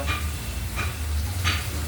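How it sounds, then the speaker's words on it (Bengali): Slices of ash gourd stuffed with poppy-seed filling fry in hot oil in a wok, giving a steady close sizzle broken by three brief scraping stirs. "চাল কুমড়ো পোস্তর পুর দিয়ে কড়াইতে তেলে ভাজা"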